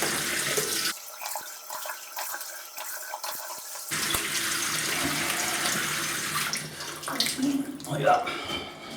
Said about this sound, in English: just rinsing on my face and neck.